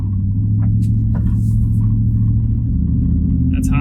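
A Nissan Patrol Y62 engine held at half throttle gives a loud, steady, low rumbling drone that stays even in level from start to finish, heard from close range.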